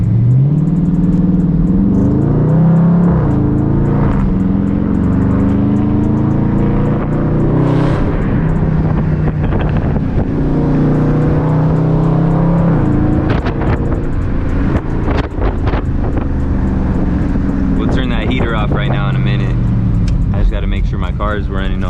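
Interior engine sound of a Dodge Charger 392 Scat Pack prone to overheating, heard while driving. A loud, continuous rumble swells and settles as the car accelerates, and people talk intermittently over it.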